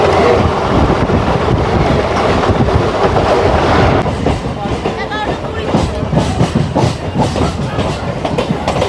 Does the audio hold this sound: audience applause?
no